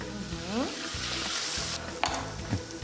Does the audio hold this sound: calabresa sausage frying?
yes